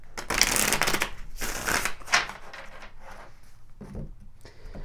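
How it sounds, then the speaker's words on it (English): A deck of tarot cards being shuffled up close: several quick riffling bursts of fluttering card edges, loud at first and then softer taps and slides as the deck settles, with no talking. "let's pull some tarot cards here"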